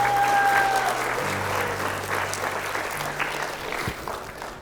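Audience applause for a speaker at an event, a dense wash of clapping that stays steady and loud throughout, with a faint tone lingering underneath at the start.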